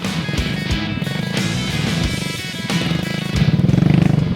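Heavily loaded motorcycle carrying sacks of sugar, its engine a close, continuous buzzing putter that rises in a throttle surge near the end, no talk.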